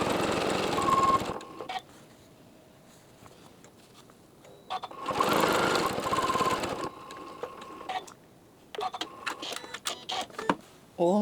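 A sewing machine stitches binding on a quilt-as-you-go quilt in short bursts, running steadily for a second or two at a time with quiet pauses and small clicks between runs, close and clear.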